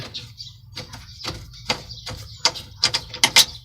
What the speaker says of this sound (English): removed the screws that hold the gas cluster panel in place